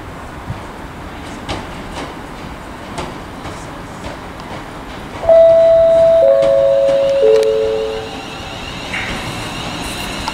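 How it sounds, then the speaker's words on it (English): A London Northwestern Railway passenger train rumbles steadily nearby, then a loud brake squeal rings out for a few seconds as it slows into Wolverhampton station, fading back to a rolling rumble. "here comes 1631 London North Western Railway Service 2 Birmingham New Street from Liverpool Lime Street"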